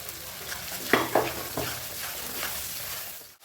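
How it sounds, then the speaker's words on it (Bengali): Cashew nuts stir-fried with ginger paste in a pan, a soft low sizzle punctuated by a few sharp spatula scrapes and knocks near the start, quiet and close, fading out at the end. "কাজু বাদামটা ভালো করে কষে নেব"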